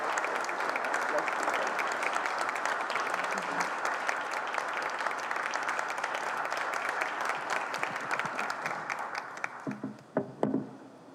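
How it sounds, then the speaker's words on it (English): An audience applauds steadily at a tribute event, a dense, sustained wash of many hands clapping for about ten seconds before thinning out to a few final claps. "Let us give her a hand of applause."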